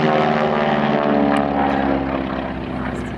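A propeller plane flying aerobatics at an air show drones loudly overhead, its engine note steady and buzzing, fading slightly as it moves away.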